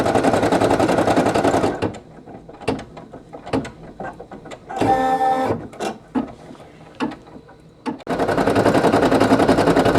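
A Brother PE800 embroidery machine stitches a patch with a fast, loud mechanical chatter, pausing for a stretch of clicks and a brief whirring shift before the dense stitching resumes, heard close with no talk.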